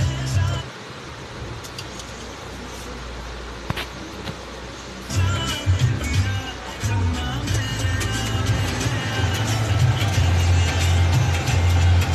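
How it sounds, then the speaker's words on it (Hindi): A Maruti Suzuki Swift car engine starts and settles into a steady idle, a low continuous rumble heard up close that runs on after the start. "गाड़ी चालू करेंगे"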